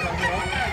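A native rooster crows close by in Baliwag, Bulacan, one short loud burst that fills the whole moment, with a faint voice underneath.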